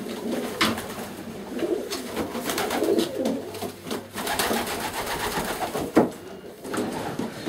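Racing pigeons coo again and again in soft, throaty rolls close by, layered over a busy loft hum, with no talking.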